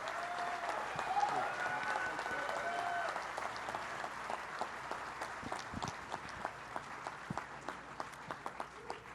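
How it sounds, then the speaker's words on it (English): A crowd at a 9/11 Memorial event applauds Vice President Joe Biden with fairly distant, steady clapping under cheering and voices, thinning into scattered claps near the end. "give a big round of applause to the Vice President of the United"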